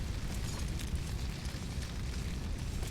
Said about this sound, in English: I can hear that the volcano eruption is still ongoing.